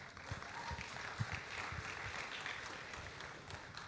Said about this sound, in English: a huge round of applause to all of you who are changing the way India shops